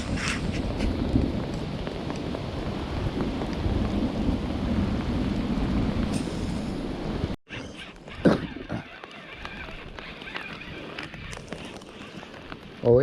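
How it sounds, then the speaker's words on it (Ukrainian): Heavy rain mixed with hail pelts down outdoors during a fishing trip on a river, a dense loud roar that cuts out abruptly, followed by quieter scattered impacts and handling noises close by. "Так воно ще й з градом, ще й град летить."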